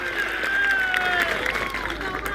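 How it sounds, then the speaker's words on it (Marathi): A crowd claps steadily while a voice calls out over the applause, which sounds loud and close, at a wrestling bout in Paud. "पण टाळ्या करा लोकांसाठी पुन्हा एकदा"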